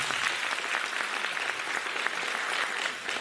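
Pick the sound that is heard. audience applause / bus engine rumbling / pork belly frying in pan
audience applause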